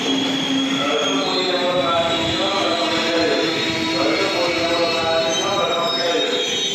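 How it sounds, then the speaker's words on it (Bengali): A Jaleswar–Puri MEMU local passenger train pulls into a station with a loud, continuous rumble and high squealing wheels that hold steady throughout, and a voice is faintly audible beneath it. "জলেশ্বর পুরী মেমু লোকাল এখন ঢুকেছে"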